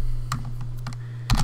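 Several sharp, separate keystrokes on a computer keyboard, irregular and close, with a faint steady hum underneath and no speech.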